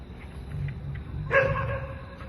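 A single dog barks once at middle distance in an outdoor forest setting near Junagadh, a short sharp bark over low background rumble.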